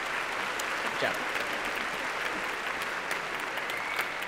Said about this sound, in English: So how about one more round of applause for our presenters?